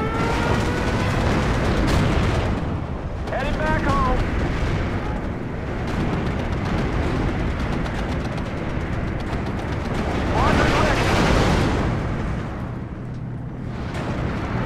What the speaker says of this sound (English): we're literally detonating the town